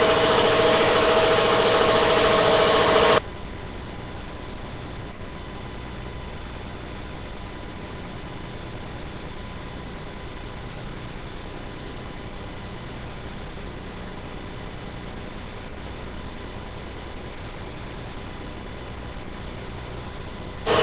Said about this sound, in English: Give me a second, the compressor's running.